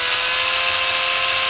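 A 20-volt cordless drill runs underpowered on 12 volts from a small module, giving a steady, loud high-pitched motor whine that holds level the whole time with no talk.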